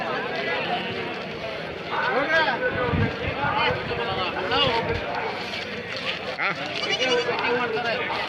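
Sheep and goats on a farm bleat repeatedly at close range, with several overlapping calls and some shuffling movement, while people talk in the background.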